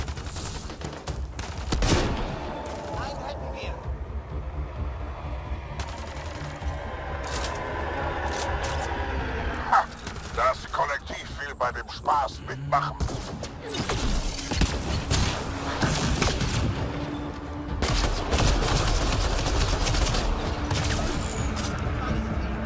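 Gunfire rattles through a firefight in the sci-fi shooter Mass Effect Andromeda, with repeated bursts and single shots, mechanical clanks and thuds, while a voice talks over the combat throughout.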